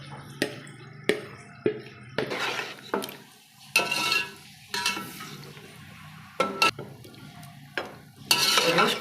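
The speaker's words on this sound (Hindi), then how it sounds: "गोश्त को आपने तब तक भूनना है जब तक इसमें जो है ऑयल ना आ जाए।" Marinated beef for yakhni pulao being stirred and fried in a pot, bursts of sizzling and scraping come in uneven strokes, with metal spoon knocks and clinks against the pot between quieter pauses.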